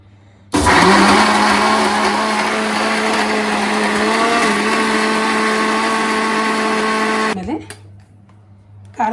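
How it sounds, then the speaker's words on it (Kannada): A kitchen mixer grinder grinds coconut masala with water for fish sambar, a loud steady motor whine running for about seven seconds before stopping abruptly. "ನೀರು ಹಾಕ್ಕೊಂಡು ಮಿಕ್ಸಿ ಮಾಡ್ಕೊಂಬರೋಣ"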